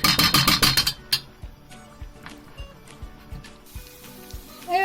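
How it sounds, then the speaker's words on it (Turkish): Tomato paste frying in a pan on the stove for a sauced pasta, a burst of loud rhythmic crackling sizzles that gives way to quieter intermittent pops and ticks. "Şimdi e, salçamız kızaracak."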